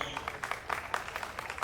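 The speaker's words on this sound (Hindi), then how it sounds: "जोरदार तालियां हो जाएगी।" Audience at a Hindi poetry gathering claps in a short burst of distinct hand claps, fairly faint and somewhat distant, with no talking over it.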